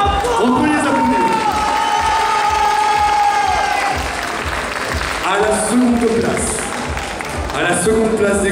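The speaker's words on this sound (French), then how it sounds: "On peut les applaudir." A convention crowd applauds cosplay performers during the contest results at Mangame Fréjus 2017. Loud, continuous clapping and some cheering run under sustained tonal sounds, likely music or voices, throughout.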